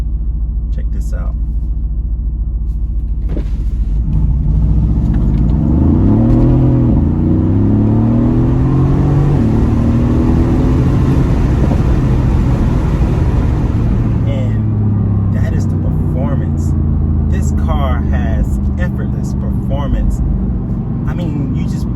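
A Mercedes-AMG GT in sport mode revs and accelerates hard, a loud deep engine rumble with rising and falling harmonics that swell mid-clip and hold steady, with some louder noise and a voice in places.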